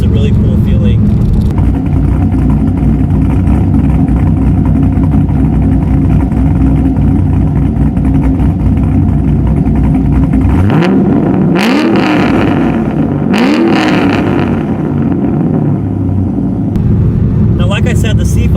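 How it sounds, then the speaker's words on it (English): A cammed LS V8 in a 2003 C5 Corvette Z06 idles loud and close with a heavy, choppy lope, then takes a couple of sharp revs that rise and fall back to idle. A voice talks over it. "you really can't beat the sound of a cammed LS. Even at idle, it sounds so good."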